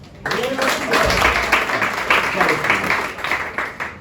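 A comedy club crowd gives a brief, moderately loud round of applause, a fluttering mass of claps with voices mixed in, thinning slightly toward the end.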